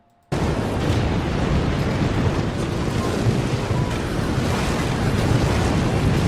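A loud, continuous roaring rumble in a WWII bomber scene under flak fire, a steady dense wash of noise beginning abruptly and holding without distinct separate blasts.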